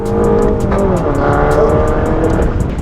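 A race car runs a lap at High Plains Raceway, its engine a loud sustained drone with a high-pitched whine and wind rush throughout, close and continuous.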